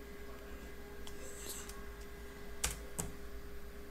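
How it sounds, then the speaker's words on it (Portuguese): Faint, quiet typing on a computer keyboard as a command is entered, a few sparse key clicks with two sharper taps near the end. "Eu vou digitar Resident Evil."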